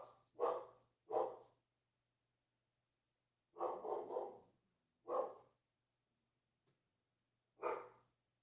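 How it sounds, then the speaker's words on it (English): A dog barks in several short bursts, some doubled, with long quiet gaps between them, heard clearly and fairly close indoors with no talking. "I hear the dog barking."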